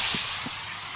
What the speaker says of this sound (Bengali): এদিকে বিনস আর গাজরটা ভাজা হচ্ছে,